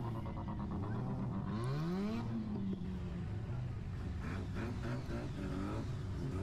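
Modified car engines rev loudly along Main Street at Summernats 34, a deep, constant rumble with a pitch sweeping up and settling, then further throttle blips over a crowded, noisy street background, with no talk.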